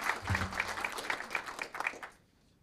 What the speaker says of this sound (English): one more big round of applause for Public Works